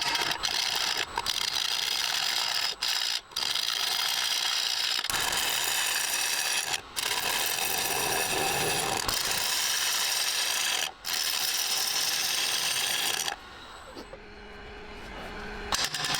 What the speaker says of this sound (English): I'm using the 3/8 bowl gouge just to get this rim nice and flat.